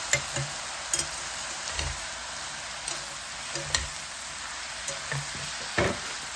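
Soft, steady sizzle of beef bulgogi frying in a pan, with occasional louder crackles and pops scattered throughout.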